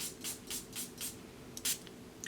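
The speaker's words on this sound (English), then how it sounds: "Let's see what happens if I were to spray it." Several short hissing spray bursts, sprayed onto a still-wet alcohol ink artwork, come in a quick run of four or five and then one stronger burst after a short pause, all close and fairly quiet, with no talking.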